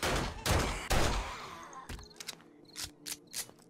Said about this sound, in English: so I'm just gonna shoot him in the body first.